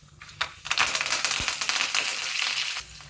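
Fenugreek seeds, mustard seeds, cumin and dried red chillies crackle and fry in hot oil with turmeric and curry leaves for a mango buttermilk tempering, a dense, steady close sizzle with sharp popping bursts throughout.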